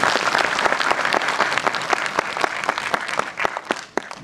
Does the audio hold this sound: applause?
yes